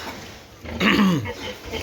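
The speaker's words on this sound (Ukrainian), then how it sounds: "поросюшки наші" Piglets in a pen give a brief grunting squeal among soft shuffling and background noise, close by and moderately loud.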